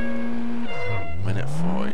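A car engine in the racing video game Juiced drones steadily, then drops in pitch through a gear change and climbs again as it revs back up, loud and continuous with no talk.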